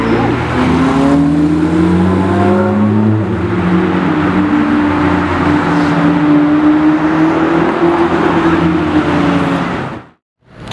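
A Ferrari 488 and a Porsche GT3 RS, both black, drive by with loud, close engine roar and rising revs that hold for about ten seconds, then cut out abruptly.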